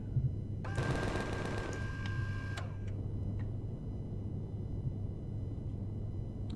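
In the space game Empyrion, enemies fire back at the player with a rapid mechanical burst of automatic gunfire lasting about two seconds, followed by a few isolated shots and clicks against a steady engine hum.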